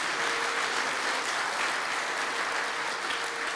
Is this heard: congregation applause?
yes